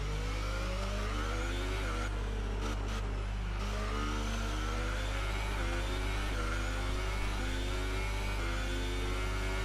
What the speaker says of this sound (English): I think that's the only reason why the car's spinning up the rear wheels so much.